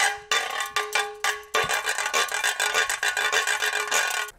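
A deer-saddle cake tin is played as a percussion instrument with rhythmic scraping strokes and a faint metallic ring: four separate rasps, then a fast, steady run of rasping beats.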